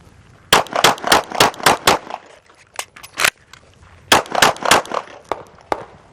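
Pistol gunfire on a flat shooting range, rapid strings of sharp, loud shots in two bursts of about six or seven each with a few spaced single shots between, close and outdoors, no talking.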